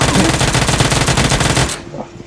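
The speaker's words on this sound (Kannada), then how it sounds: "ಶಾರ್ಟ್ ಗನ್ ತಂದು ಹೊಡೆದು ಬಿಡ್ತಾನೆ" Rapid loud gunfire in the BGMI mobile game, a shotgun blasting in a fast dense burst for about a second and a half before cutting off abruptly into near silence.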